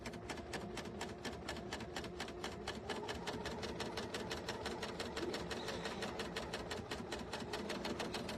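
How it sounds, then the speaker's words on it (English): A serger sewing machine stitches quilt fabric with a fast, even mechanical hum and a steady rapid chatter of needles, close and continuous with no talk. "lower the presser foot down, and we are going to stitch"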